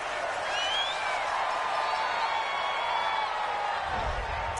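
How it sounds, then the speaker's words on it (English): Home crowd cheering in a PS4 football video game after a referee's call, a steady broad roar of a large stadium crowd that holds evenly throughout. "This home crowd, they're happy with that call."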